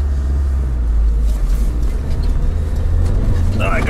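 A Lada Niva 4x4 climbs a mountain in second low gear with the differential locked, its engine held at a loud, steady, close roar, with voices talking over it.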